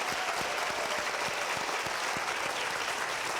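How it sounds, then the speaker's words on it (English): An audience applauds students at a school district event, a dense, even burst of clapping that carries steadily from start to finish with no voices over it. "So can we give our students a round of applause?"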